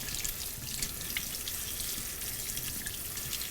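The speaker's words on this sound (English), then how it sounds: "And you just use normal sink water." Tap water streams steadily from a sink faucet while a robot vacuum's HEPA filter is rinsed under it, a close, even hiss with slight splashing and no voices.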